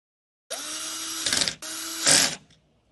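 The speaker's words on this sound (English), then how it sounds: "Align the holes, and fasten the screws." Power screwdriver fastening screws on an electric curtain pole carrier, two close whirring runs with a short break between them, each rising in pitch as the screw tightens.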